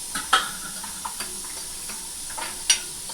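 Onions sizzle steadily in a pan for a Sunday chicken curry, with a few sharp clicks and scrapes of stirring against the pan's quiet frying hiss.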